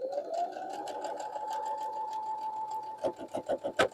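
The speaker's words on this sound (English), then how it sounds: "Let's go take this to the sewing machine and put it together." A sewing machine stitches a small Carpenter's Star quilt block, giving a steady whirring motor hum at first. It then breaks into rapid, distinct pulsing stitches near the end, with no speech.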